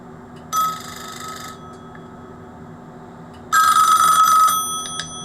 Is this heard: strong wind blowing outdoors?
no